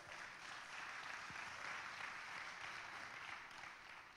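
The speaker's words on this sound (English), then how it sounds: "Congratulations to y'all, because it takes a round of applause for y'all." An audience at a business talk event applauds in a steady, distant, faint round of clapping that holds evenly and tapers slightly at the end.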